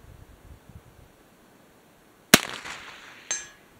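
A Marlin 1894 carbine in .357 Magnum fires one sharp, loud crack, and about a second later a fainter metallic ping comes back from a steel target 200 yards downrange.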